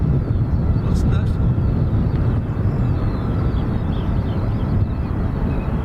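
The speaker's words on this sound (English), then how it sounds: "I think we have an ATR down now." An ATR turboprop landing at Dublin Airport, a loud continuous low rumbling roar heard from outside with wind buffeting the microphone, steady throughout.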